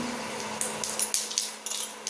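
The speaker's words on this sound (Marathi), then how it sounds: "मोहरी छान तडतडली" Mustard seeds spluttering in hot ghee during tempering for vermicelli upma, a run of sharp, irregular pops and crackles over a faint steady hum.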